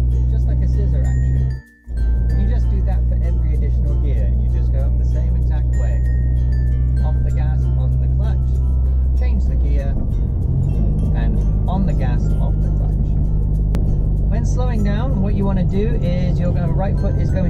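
A manual-transmission car accelerates, a steady loud engine drone that briefly cuts out as the clutch goes down and then returns at a different pitch after a gear change, with someone talking throughout.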